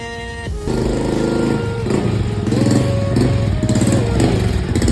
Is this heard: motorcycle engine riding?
yes